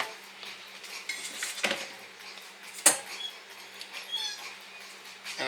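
A bowl lifted out from among stacked dishes in a home kitchen, giving a few light clinks and clatters, with one sharper knock near the middle and soft rattling around it.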